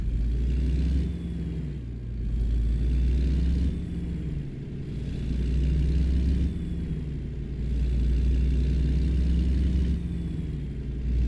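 A Kenworth K100E truck engine in American Truck Simulator drones low and steady, swelling and easing in slow repeating cycles as it gets under way. The rumble is heavy and continuous, with no voices.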